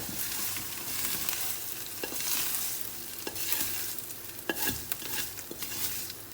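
A cooked ginger, garlic and onion mixture stirred into dal curry off the heat, giving a soft sizzle with wet scraping and clinks of a spoon against the pot, quiet and close.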